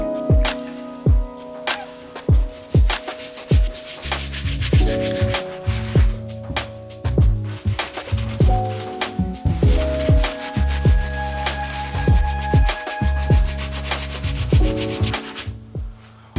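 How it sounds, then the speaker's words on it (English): A medium bristle brush scrubs deep stains out of the suede and leather uppers of Air Jordan Flint 7 sneakers, giving loud, close, continuous rhythmic scratching strokes with background music underneath. "We'll use this brush to take care of the leather on the uppers and try to scrub some of these deep stains out of the suede."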